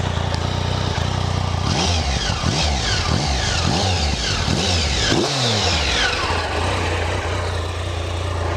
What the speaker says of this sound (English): Obviously it sounds like a normal triple, it's got that lovely whistle in the engine.